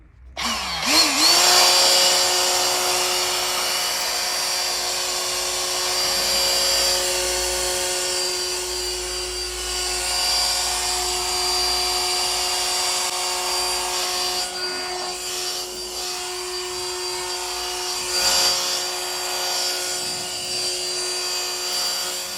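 An Ozito PXC 18V cordless high-volume inflator blows sawdust across the floor, giving a steady, close, whining motor hum with a rushing airflow that holds for over twenty seconds with small swells.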